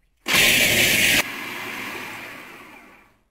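Food processor grinding 300 g of Maizena biscuits into crumbs: a loud, dense whirring roar for about a second, then a lower steady grinding hum that fades out.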